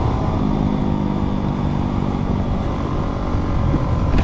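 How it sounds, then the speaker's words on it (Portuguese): Motorcycle with a loud exhaust pipe riding on a broken road, a steady, dense engine roar throughout, close and loud, with no talk. "Ele tá falando do meu cano de escape aí, galera. Sai barulho, galera."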